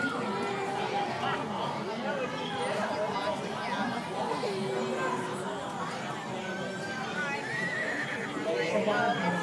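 A mechanical jousting horse ride at Legoland California gives out a neighing whinny amid hoof clip-clop effects, heard continuously beneath a recorded announcer's voice and background chatter.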